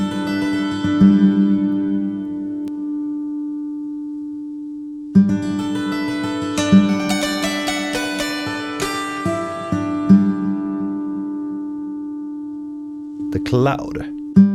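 Hall 2 reverb algorithm from the JORNA plugin applied to sustained harmonic tones, a long tail decaying after the first chord, then a second brighter chord swelling and fading in a wide, spacious wash, with a brief noisy burst near the end.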